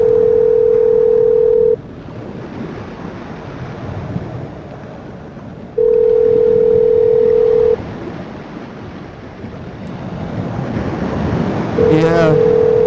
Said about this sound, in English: we can still talk while the phones are ringing